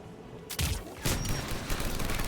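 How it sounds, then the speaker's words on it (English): Anti-aircraft guns fire in the Mass Effect 3 video game, a dense, sustained fusillade of rapid booming shots that kicks in loudly and keeps pounding. "AA guns ahead of us"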